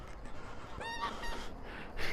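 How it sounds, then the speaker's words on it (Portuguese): A flock of geese calls outdoors. Two or three nasal honks carry clearly over a steady outdoor background hum, with no talking. "Um monte de pato aqui, de gansos."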